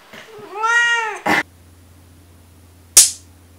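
A cat meows once, long and rising then falling, close and clear, followed by a short thump and later a sharp bright smack against a quiet background hum.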